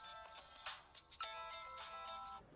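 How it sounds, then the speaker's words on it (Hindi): Mobile phone ringing in a Hindi film scene, a faint melodic ringtone with repeating tonal bursts. "ये उसी का फोन है।"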